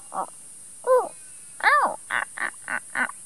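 A human voice imitates a baby kookaburra, giving a series of short, nasal, wavering squawks, two spaced calls followed by a quicker run of five, close and clear.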